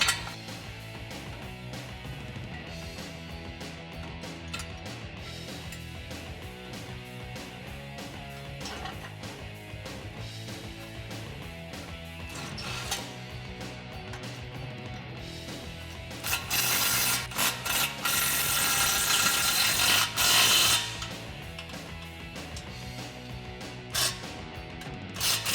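A ratchet works factory 13mm bolts on a 2015-2019 Ford F-150 5.0L Borla exhaust, a steady run of fine mechanical clicking throughout that swells into a louder, denser burst near the end.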